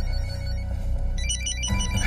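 An incoming call sets off a mobile phone ringtone, a melodic pattern of high tones rising over a loud, steady low background hum during a meal in a restaurant setting.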